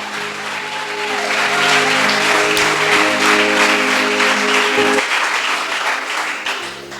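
Applause from a church congregation during a sermon, a steady wash of clapping that swells and holds for several seconds before fading, with sustained musical tones underneath.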